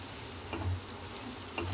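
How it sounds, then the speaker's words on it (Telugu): Okra with turmeric being stirred in a pan, a soft steady sizzle with faint scraping strokes of the spoon, close and quiet. "పసుపు కూడా అంతా కలిసేలాగా ఒకసారి కలిపేసుకుందాం"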